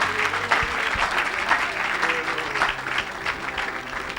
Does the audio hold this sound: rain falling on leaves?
no